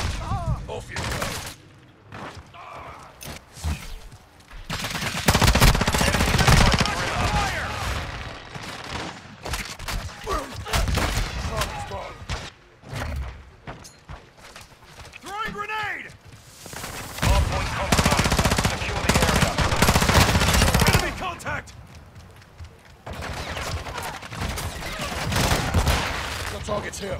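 Heavy automatic gunfire in Call of Duty: Modern Warfare II: dense bursts of rapid shots come and go over nearly half a minute, with brief lulls and voices speaking between volleys.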